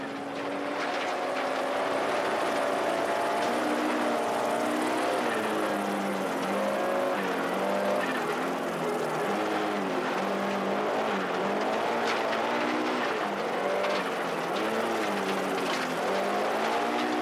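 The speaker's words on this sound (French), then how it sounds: "Le prochain virage est à droite, on balance la voiture vers la gauche, puis ensuite vers la droite." An extensively modified Audi rally car at the 1994 Rallye Charlevoix in Pointe-au-Pic swings through a right-hand corner with a pendulum flick, its engine revving up and down continuously and loudly across the whole stretch.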